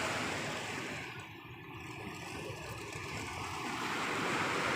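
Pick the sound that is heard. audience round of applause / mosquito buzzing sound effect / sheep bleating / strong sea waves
strong sea waves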